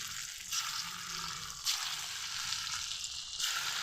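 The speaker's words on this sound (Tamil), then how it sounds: "கடாயில் எண்ணெய் ஊற்றி வச்சுருக்கேன் எண்ணெய் சூடானதும் பகோடாவை போட்டுடலாம்" Horse gram pakoda batter fries in a kadai of hot oil, a steady close sizzle with broad hiss that swells briefly a few times, alone without talk.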